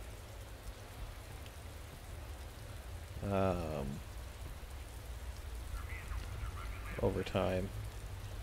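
Steady rain falls on the race track in the management game Motorsport Manager, a constant soft hiss with a couple of short bursts of talk over it.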